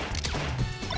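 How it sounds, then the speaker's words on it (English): Forward smash attack in Super Smash Bros. Melee during online netplay, a quick heavy crunching hit with a sharp thwack amid busy game sounds, loud and brief with no voices. "I forward smashed instead of a B."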